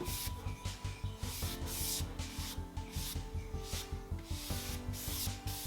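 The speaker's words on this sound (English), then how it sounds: "But same technique, chip brush, dragging it over in places." A chip brush drags paint lightly over a wooden furniture piece, giving close, repeated rhythmic rubbing strokes at an even pace with no talking.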